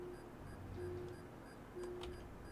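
A parking-sensor-style warning beep in the video game Carrier Command 2 sounds three times: short, level electronic tones at uneven spacing over a continuous low machine drone, with faint clicks near the end.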